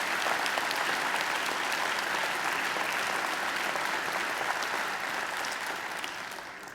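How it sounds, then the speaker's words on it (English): Sustained applause from a large audience at a university graduation ceremony, dense steady clapping close and full, easing slightly near the end. "They deserve a great round of applause."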